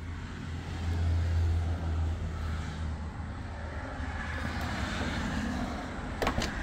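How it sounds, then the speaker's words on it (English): Road traffic on Route 54 near Danville, heard from outside a small finished cabin: a continuous low rumble of passing vehicles at a distance, swelling and fading steadily with no talk. "That traffic you hear out there is Route 54, which becomes Continental Boulevard."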